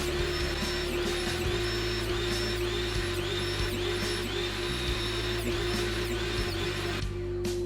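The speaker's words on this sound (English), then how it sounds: "For making box joints on my table saw, I use my jig along with two regular blades stacked together inside the table saw." A contractor table saw fitted with two stacked blades whines steadily as it cuts box joints with a jig, a loud continuous motor drone with small periodic dips in pitch as the wood is fed through, and no talking.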